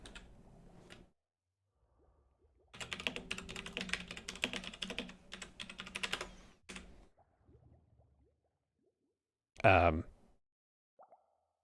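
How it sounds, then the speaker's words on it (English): Fast clattery typing on a computer keyboard during a game session, a dense burst of key clicks lasting a few seconds, with brief talk and other faint noises around it. "I can hear Charis typing."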